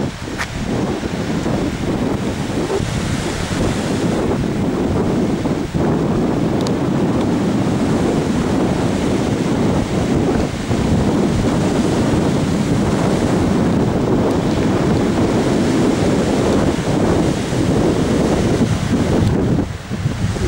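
Sea waves wash onto a beach at Anapa under strong wind, a continuous loud roar of surf with heavy wind buffeting the microphone throughout, no voices.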